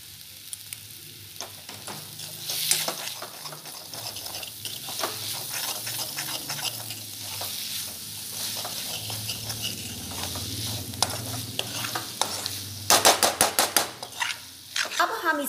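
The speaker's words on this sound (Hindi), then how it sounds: "अब हम इसे बिल्कुल मंद आंच पर 5 मिनट के लिए भूनेंगे" Spiced chickpea masala fries gently in a pan on low heat, a soft sizzle under scraping and clinking of a spoon against the cookware, a burst of rapid tapping near the end.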